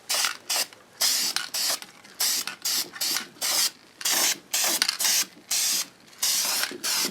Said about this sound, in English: Just want to coat the inside with the black primer.